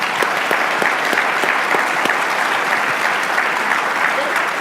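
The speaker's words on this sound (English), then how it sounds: "could you give our panelists a round of applause?" Vigorous applause for the panelists after a compliance program presentation, a loud, sustained crowd of clapping hands with sharp individual claps audible throughout.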